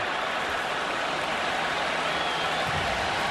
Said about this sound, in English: A standing ovation after 2 incompletions